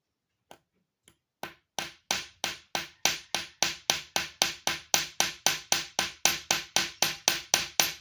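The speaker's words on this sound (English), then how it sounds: "I want to tap it with the hammer" A hammer taps a hard point on a package: a few hesitant strikes, then a steady, rapid run of about twenty sharp, evenly spaced knocks, close and clear with nothing else heard.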